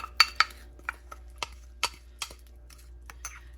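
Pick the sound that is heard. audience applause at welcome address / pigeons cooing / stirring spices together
stirring spices together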